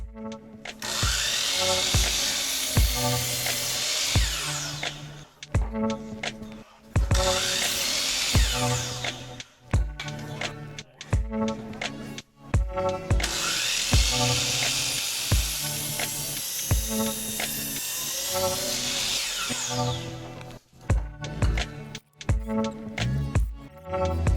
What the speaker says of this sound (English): then we can throw a couple of deck screws in there